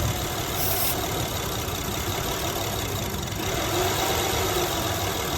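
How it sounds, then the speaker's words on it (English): A car engine running on propane runs steadily and then lugs down, its tone dipping and roughening briefly before it keeps running; close and continuous, no voices. "you can hear the engine lug down"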